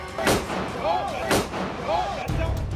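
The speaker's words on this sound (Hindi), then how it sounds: "अमेरिका के संसद भवन के भीतर आपको गोली चलने की आवाज सुनाई पड़ेगी।" Sharp, loud gunshots ring out at irregular intervals inside the US Capitol building, echoing in an enclosed space, with indistinct voices and commotion underneath.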